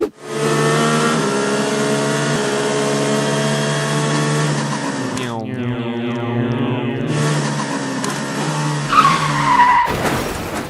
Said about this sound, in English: please enjoy this compilation of Hall cosplaying as a race car